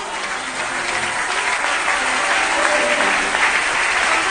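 A crowd at a French-language prophetic church gathering applauds and cheers for a woman who has just sung, sustained loud clapping that builds slightly and fills the room.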